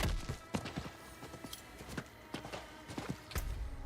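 Hooves clip-clop in a video game, a brisk run of close, loud hoofbeats at an uneven trotting rhythm with no voices over them.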